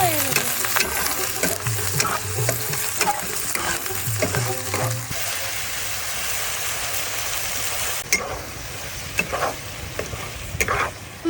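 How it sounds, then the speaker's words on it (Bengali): Chopped onion and chili sizzle in hot oil for a tengra fish broth, with a spatula scraping and clattering against the pan in the first half, then a steady close frying hiss with occasional stirring knocks. "তেল গরম হয়ে গেছে তো এবার আমি পেঁয়াজ কুচি দিয়ে দেব"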